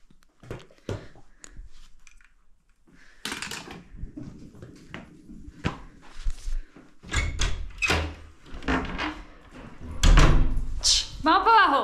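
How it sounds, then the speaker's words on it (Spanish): A door rattles and thumps in repeated bursts as dogs paw and scrape at it, with a brief high whine near the end. "Mis perros intentando abrir la puerta."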